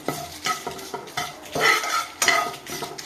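Dry-roasting red chillies with cumin and coriander seeds in a pan for a cucumber and peanut chutney, with repeated scraping stirs of a spatula over a light sizzle, close and steady, no voices.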